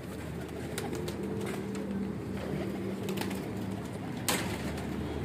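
Breeder pigeons at a home loft coo in low, repeated murmurs beneath a steady background hiss. They are faint and a little distant, with occasional faint clicks and no talking.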